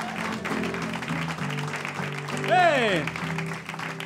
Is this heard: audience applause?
yes